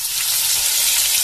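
Food sizzles steadily in a hot frying pan at midday, with a loud, even, crackling hiss close by and no voices.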